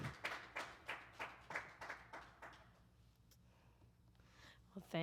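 A small audience claps at a music performance, a rhythmic burst of separate hand claps that fades to scattered taps and quiet, close and moderately loud.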